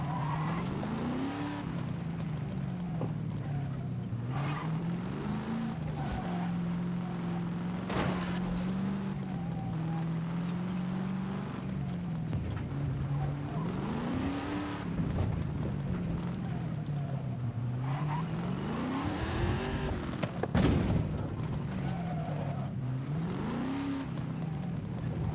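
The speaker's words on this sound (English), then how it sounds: "this truck sounds so good." A truck engine in a driving video game rises and falls in pitch as it revs, shifts and accelerates, with occasional tire noise over a steady background rumble.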